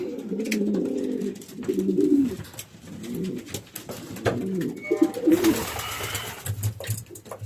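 Pigeons coo repeatedly close by in soft, throaty bursts inside a breeding loft, followed by a brief flurry of rustling and fluttering before the cooing resumes.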